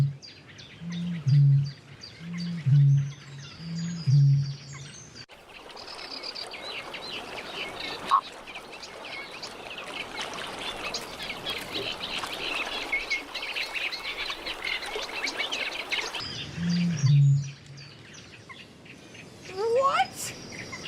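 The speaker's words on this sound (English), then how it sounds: "Let's hear the bittern call." A bittern calls in a marshy setting with a series of deep, booming low pumping notes repeated at a steady pace, then a long stretch of hiss and higher bird calls, and the booming returns near the end.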